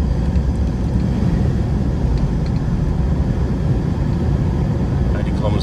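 A Mitsubishi Triton MQ pulls away in drive at highway speed, heard from inside the cabin as a steady, close engine and road drone that holds evenly throughout.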